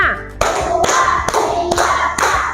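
A group clapping together in unison, five sharp, close claps spaced roughly evenly, with a voice briefly calling out at the start.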